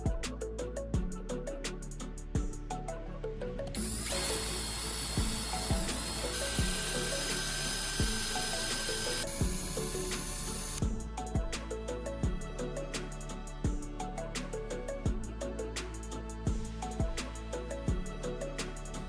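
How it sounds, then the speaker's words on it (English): A high-pitched drill whines steadily for several seconds while boring a hole in a spoon handle, rising over rhythmic background music that keeps playing before and after. "I drill a hole in the handle of the spoon"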